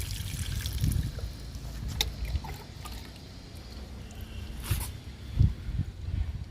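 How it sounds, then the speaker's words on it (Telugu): Water poured onto a potted tulsi plant trickles and splashes in a few soft bursts against a low background hum, close and fairly quiet, with no talking. "తులసి మొక్కకి వాటర్ ఇస్తున్నాను."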